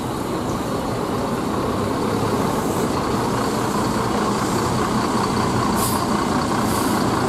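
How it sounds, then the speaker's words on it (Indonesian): An intercity PBP bus bound for Wonosobo passing at Pondok Pinang terminal, a loud steady diesel engine rumble with roaring traffic noise throughout and faint hissing bursts near the end, no voices. "Selanjutnya ada bus PBP tujuan Wonosobo."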